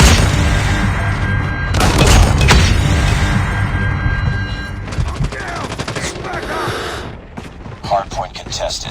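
Rapid bursts of gunfire and heavy booming explosions from a Predator missile strike fill a COD Mobile hardpoint match, loud and dense, with game voice callouts mixed in and sharper crackling blasts toward the end.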